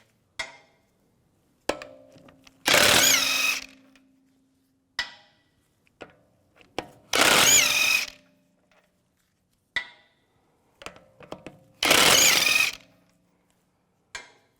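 A power impact tool spins lug bolts off a BMW X3 wheel with a 17mm socket in three loud bursts of about a second each, separated by quiet clicks and metallic handling.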